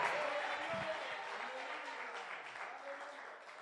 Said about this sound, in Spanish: ¿Cuántos dan ese fuerte aplauso al que vive?